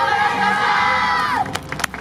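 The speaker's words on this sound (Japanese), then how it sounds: "温かいたくさんのご声援 ありがとうございました" Crowd cheering and shouting for a dance team at the Kamisu Maccyage Festival stage in Japan, a loud sustained roar of voices that drops off abruptly into scattered claps and whoops.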